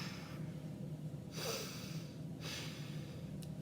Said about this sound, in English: have my patient just close their nostril and breathe in and out